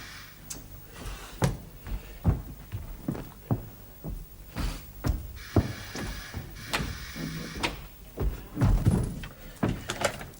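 A door in a 1971 drama scene being worked open amid repeated knocks, clunks and rattles, a series of sharp thuds spread unevenly over about ten seconds with a brief hiss midway, no voices.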